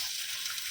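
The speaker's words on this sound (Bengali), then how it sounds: "জল দিয়ে দিলাম" Water poured into a pan of poppy seeds cooking over a wood fire on a rooftop gives a brief, steady hiss and sizzle, faint and even throughout with no talking.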